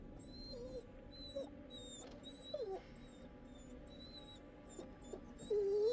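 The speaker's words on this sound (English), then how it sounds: "whimpering." A dog whimpers in a forest scene of the horror game The Dark Pictures: The Devil In Me, thin high whines rising and falling repeatedly over a steady low ambient drone.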